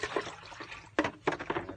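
Quiet splashing and pouring of drinking water as a ducks' water dish is changed, with a few brief sloshes and trickles close by.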